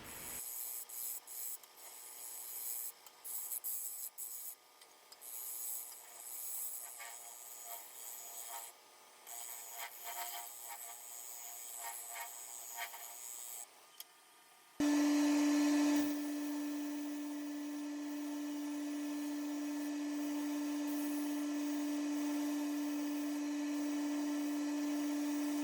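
Wood lathe turning cuts taking a piece down to thickness: close, uneven scraping and rasping of the tool on spinning wood, then a steady motor whine as the lathe runs on alone, with no talk.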